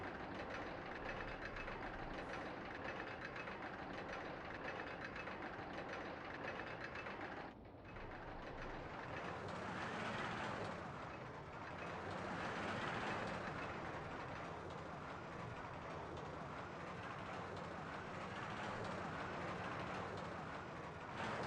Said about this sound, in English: These are ostrich trains, by the way